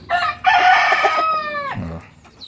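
A native-breed rooster on a farm lets out one loud, close crow lasting over a second, with a short cluck from hens just after and no talking.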